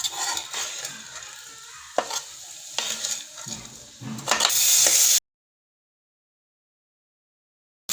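A utensil stirs and scrapes through fried ingredients in a pot, producing a close hissing sizzle with clanks and sharp scrapes for about five seconds before the sound cuts to silence.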